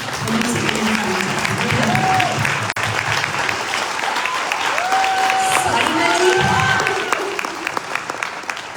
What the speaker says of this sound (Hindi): एक बार में जोरदार तालियां।